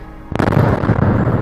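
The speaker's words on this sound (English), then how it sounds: "A fire triggered powerful explosions at the facility on Monday." After a quiet moment, a fire at an artillery depot holding over 40,000 shells sets off a sudden loud blast followed by a dense, continuous roll of booming explosions and crackling, heavy and sustained.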